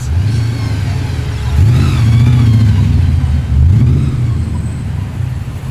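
A GTS Monaro muscle car sits in a Sydney car park, its engine idling in a deep rumble and then blipped through two or three swelling revs, loud and close.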